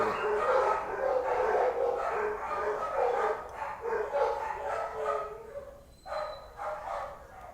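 Dogs bark repeatedly in bursts, fairly close, with a faint voice and a short high whistle-like tone near the end.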